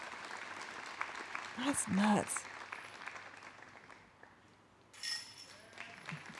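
A crowd at a disc golf tournament cheers and applauds, a moderate wash of clapping under commentators' talk, with a louder burst of cheering near the middle and another near the end.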